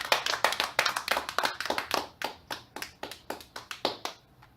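A church congregation claps together in a steady rhythm during a worship service, the sharp claps loud and regular before tapering off near the end.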